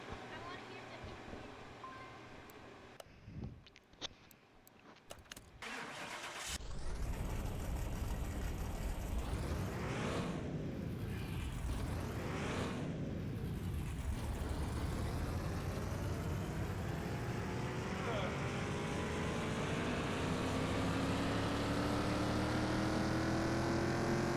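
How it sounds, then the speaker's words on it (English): An engine on an old vehicle being rebuilt in a home garage fires up after a few seconds of quiet shuffling, then settles into a steady, loud running drone that rises slightly in pitch toward the end. "I like the sound of that engine on this thing"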